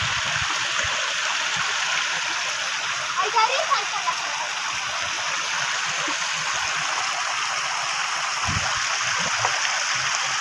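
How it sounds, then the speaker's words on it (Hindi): Water gushes steadily through a breach in the bund of a brimming rice paddy, a continuous close rushing hiss with a few splashes, and voices are faintly heard over it. "देखिए पानी यहाँ से निकल रहा है"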